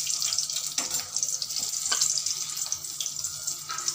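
Whole spices sizzle in hot oil in a pan while paneer masala is being cooked, giving a continuous bright hiss with small crackles and pops, close and moderately loud, with no talking.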